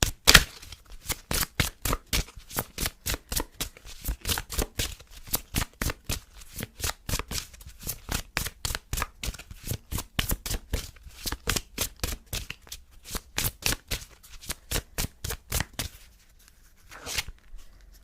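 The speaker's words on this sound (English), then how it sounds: "let's pull some romance oracle cards" Romance oracle cards shuffled by hand, a long regular run of sharp flicking snaps close by, evenly paced and loud, thinning out near the end with no speech.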